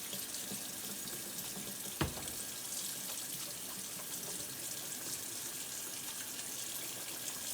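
Hands are rinsed under a running tap in a steady, close water hiss, with a single soft thump against the sink partway through.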